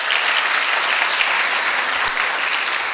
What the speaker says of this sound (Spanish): gracias a los que hicieron los sándwiches, de verdad un aplauso para ellos